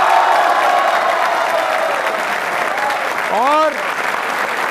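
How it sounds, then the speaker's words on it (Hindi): Studio audience of university law students applauding on a quiz show, dense continuous clapping with a voice speaking briefly over it near the end. "तालियां जोरों से बजाइए अपने लिए।"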